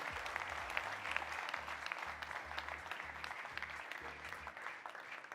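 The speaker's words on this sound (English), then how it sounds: "I didn't even have to tell you guys a round of applause for Mr. Bakhit." An audience claps through a watch product launch event, a continuous spread of applause over a low, pulsing music bed playing in the background.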